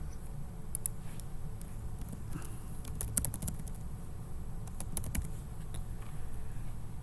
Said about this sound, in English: so I'm typing in here